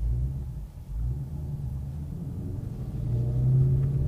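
A Ford Mustang V8 rumbles steadily while driving, a deep continuous engine drone that swells louder toward the end, with no voices.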